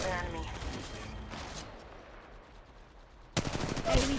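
Rapid bursts of gunfire in the video game Apex Legends, a sustained rattling volley that fades, then a sharp loud burst resumes near the end, with a voice briefly audible.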